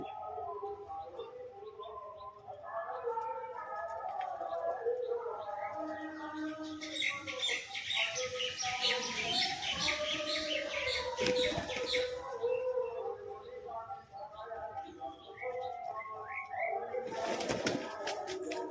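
A Giribaz pigeon coos repeatedly in a loft among other pigeons, with soft rolling calls layered over each other, close by and fairly quiet, followed by a burst of rustling and wing noise near the end.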